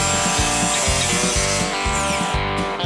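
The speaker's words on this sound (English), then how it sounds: "I do have a skill saw." A circular saw whines steadily while cutting through wood, its load rising and falling in rhythmic bursts, loud and close with no voices.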